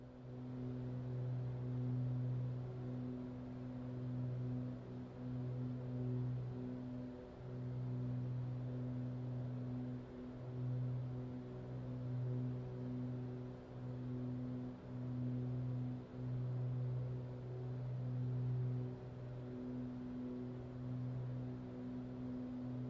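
Twin piston engines of a Beech Baron B58P in the MSFS 2024 flight simulator drone steadily at a low pitch with a pulsing, throbbing beat, running continuously and fairly loud with no talk over them.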